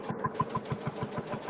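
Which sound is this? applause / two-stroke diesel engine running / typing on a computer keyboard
two-stroke diesel engine running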